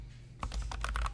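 A brief, quiet burst of rapid typing on a computer keyboard, keys clacking close by after a short near-silent pause.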